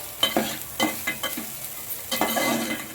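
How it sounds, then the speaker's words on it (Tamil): Grated coconut being turned through coconut rice in a pan, a few quiet spatula scrapes and soft sizzling bursts, close and fairly faint with no voices. "தேங்காய் போட்டு ரொம்ப நேரம் நம்ம கிளறக்கூடாது. ஜஸ்ட் ஒரு திருப்பிட்டு"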